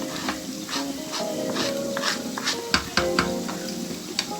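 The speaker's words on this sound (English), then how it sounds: "I will stir it. I will add my pepper in it." Pepper and tomato purée sizzle in a frying pan while being stirred for egg lasagna, a close, steady frying hiss broken by repeated scraping and clinking of the spoon against the pan.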